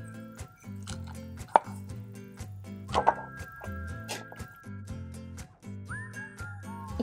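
A food processor blending a wet mass of peanut butter and coconut, heard close as a steady motor whir with repeated knocking thumps and a brief whining tone.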